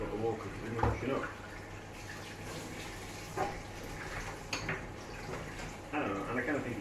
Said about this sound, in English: Run a bit of water because we're washing up.